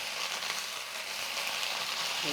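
Leafy greens sauté in a hot pan, giving a dense, steady hiss and sizzle up close that never lets up.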